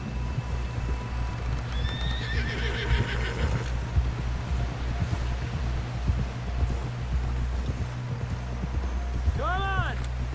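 A horse whinnies loudly twice in Red Dead Redemption 2, with clip-clopping hooves throughout, a steady low wind-like rumble underneath and voices talking over it.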